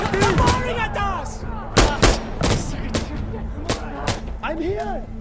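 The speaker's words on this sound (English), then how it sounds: "They're firing at us!" Gunfire in Insurgency Sandstorm co-op combat, repeated loud sharp rifle shots at irregular intervals throughout, with some distant reports and whizzing sounds mixed in.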